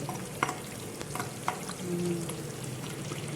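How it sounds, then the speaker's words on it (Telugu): Onions and curry leaves fry in a pan, a soft continuous sizzle with a few sharp stirring scrapes and clinks, close and fairly quiet. "ఇప్పుడు దీనిలో ఉల్లిపాయలు వేసుకున్నాం కరివేపాకు వేగిపోతూ ఉంది"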